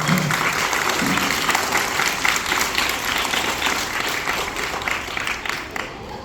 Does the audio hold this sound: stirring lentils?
no